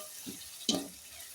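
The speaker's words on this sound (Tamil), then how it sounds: "நன்கு வதங்கியவுடன் சிறிதாக வெட்டி வைக்கப்பட்டுள்ள தக்காளி பழங்களை சேர்க்கவும்." Chopped tomatoes dropped into hot oil with sautéed onion and curry leaves, a short burst of sizzle and a stir against the pan after a soft scrape, under steady faint frying hiss.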